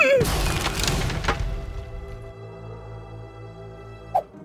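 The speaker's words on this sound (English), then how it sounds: "this here is an explosion made with just one sulfur" A single bottle of sulfur explodes in a video game about blowing up a planet: a loud, close burst right at the start that fades into a low rumbling tail, then one short thump near the end.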